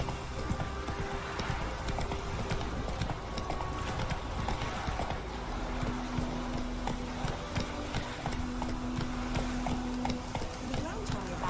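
A horse galloping in The Witcher 3: Wild Hunt, a rapid continuous clip-clop of hooves throughout, with a low mechanical hum beneath and a voice speaking briefly.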